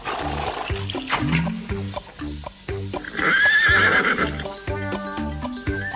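A grey pony whinnies in a loud, shrill, quavering neigh over a bouncy rhythmic backing track, with hoof clip-clops and snorting around it.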